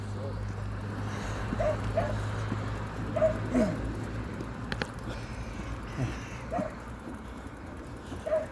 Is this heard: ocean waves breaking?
no